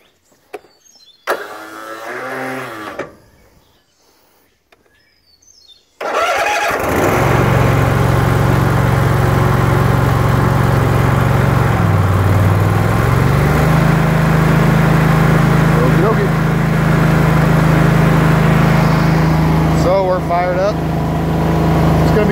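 A Gravely ZT XL-60 zero turn mower engine cranks and catches after a few quiet seconds of handling, then runs loud and steady, its idle pitch shifting up briefly midway.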